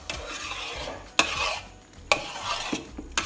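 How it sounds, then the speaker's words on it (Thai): Rice being stirred with coconut milk in a pan for Thai-Lao bundled sticky rice, a soft wet sizzle broken by several sharp utensil scrapes and knocks against the pan. "เราจะผัดจนกว่า ข้าวสุกข้าวสุกนะคะ"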